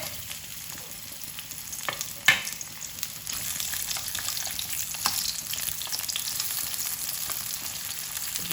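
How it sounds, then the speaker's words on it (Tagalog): Sliced onion rings frying in a pan while beef steak is being prepared, a steady close sizzle with occasional stirring clatters and one sharper knock, no talking. "magpiprito muna tayo ng sibuyas"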